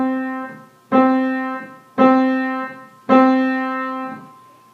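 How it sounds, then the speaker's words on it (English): Four evenly spaced piano notes on the same pitch, each struck clearly and left to ring before the next, forming a steady quarter-note rhythm with nothing else heard. "If I play this rhythm on a piano"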